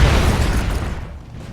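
A thrown grenade explodes in the action game Broforce, a single loud, close boom that rolls off and fades over about a second.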